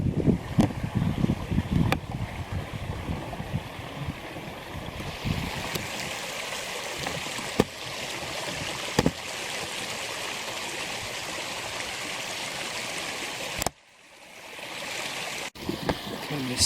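A river flows steadily at a campsite, a broad continuous rush of water with some low wind buffeting on the microphone, interrupted by a brief muffled dropout near the end.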